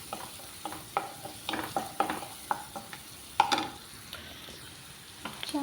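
Onions and green chillies frying in a pan for a taro root and egg pulusu curry, with scattered close sizzles, crackles and spatula scrapes as they are stirred, at a low level throughout.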